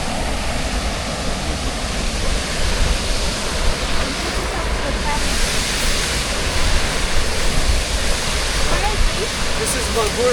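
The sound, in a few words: Magura waterfall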